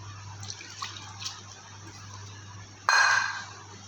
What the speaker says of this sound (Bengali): তার মধ্যে একটু জল নিয়ে দিয়ে দিলাম